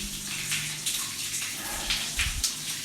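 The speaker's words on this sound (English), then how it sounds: "I just want to try to see if I can get this out of the water" Something is dragged up out of water at an abandoned copper mine camp, probably an old scraper: steady splashing and sloshing with small gushes and drips, close by and fairly loud, with no talk.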